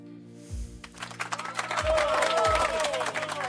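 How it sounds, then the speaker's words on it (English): In-house applause from a studio audience at a student media awards ceremony swells after a voice speaks and continues as a dense, sustained wash of clapping. "In-house applause here in the studio."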